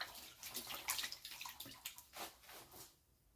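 Water sloshes and splashes in a pan during gold panning in Rumford, Maine. The quiet, irregular swishes and trickles come close by, then fade near the end, with no talk.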